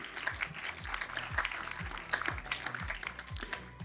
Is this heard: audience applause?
yes